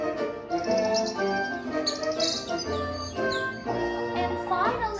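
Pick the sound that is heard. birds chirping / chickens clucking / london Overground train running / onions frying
birds chirping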